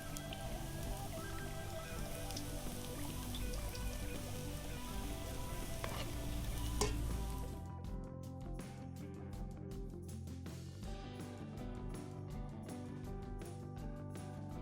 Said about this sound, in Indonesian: Kita goreng adonan ini sampai adonan ini habis.